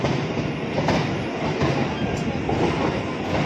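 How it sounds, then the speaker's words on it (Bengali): A Majerhat local train runs near a railway bridge in Kolkata, a loud continuous rumble with rhythmic clickety-clack of wheels over rail joints and faint squeals, heard from on board. "উপর থেকেও ট্রেন যায়, নিচ থেকেও ট্রেন যায়।"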